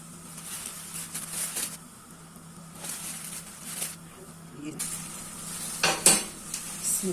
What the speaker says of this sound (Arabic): حمصي الدقيق كده في السمنه بتاعتك، حمصيه كده على طول